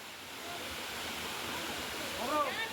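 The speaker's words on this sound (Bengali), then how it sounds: "চলে এলাম ধারাগিরি ওয়াটারফলসের সামনে এই যে জলের ফোর্স কিন্তু প্রচণ্ড বেশ ভালো জোরে জল পড়ছে" Dharagiri waterfall near Ghatshila, with water falling hard, gives a steady broadband rush of moderate loudness that swells slightly near the end.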